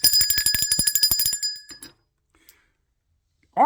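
A bell is struck with rapid repeated rings, bright and metallic, that fade to silence after about two seconds before a short new sound begins at the end. Nobody speaks.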